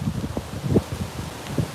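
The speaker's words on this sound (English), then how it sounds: "little windy out here." Wind blowing outdoors, gusting across the microphone in uneven low buffeting puffs, close and steady at moderate level.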